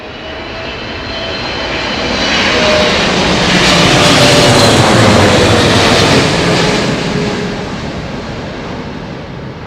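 A Saudi Arabian Airlines Boeing 777 arrives at Heathrow Airport on a gusty day, its roaring engines swelling as it passes overhead, then fading, loud and alone.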